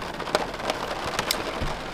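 Rain falls steadily outside at a remote bush camp in northwest Ontario, a soft continuous patter with a few sharper drops standing out, no voices.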